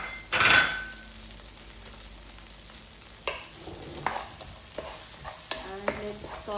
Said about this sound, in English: And let's saute them.